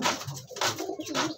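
Andhra pigeons in a pigeon sale shed coo in a few soft, rolling pulses close by.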